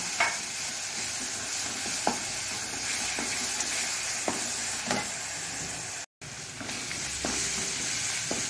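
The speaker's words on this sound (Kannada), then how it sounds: "ನೋಡಿ, ಈ ಮಸಾಲೆ ಇದರಲ್ಲಿ ಚೆನ್ನಾಗಿ ಫ್ರೈ ಆಗಬೇಕು ಸ್ವಲ್ಪ" Masala frying in a pan for Mangalorean-style Avalakki Usuli gives a steady close sizzle with occasional scraping stirs, briefly cutting out once midway.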